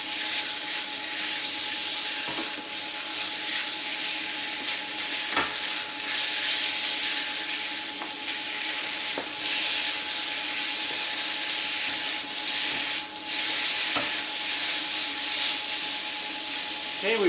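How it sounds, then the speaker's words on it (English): Beef steak stir-fries in a wok with a steady, moderate sizzling hiss and occasional sharp clicks of a utensil against the pan. "This wok cooks really fast. Just stir it around,"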